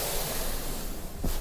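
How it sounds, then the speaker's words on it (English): Strong wind blows steadily around a house as a loud, broadband rushing roar, close and alone, swelling briefly near the end. "it's very windy and you may hear that"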